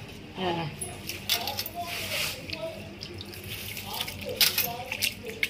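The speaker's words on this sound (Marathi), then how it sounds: "तर त्यामुळं आम्ही असं थोडं पाण्यात धुवून घेतो." Something is being rinsed by hand in a vessel of water in a home kitchen, with splashing and sloshing bursts and a few clinks, continuing steadily at close range under a voice.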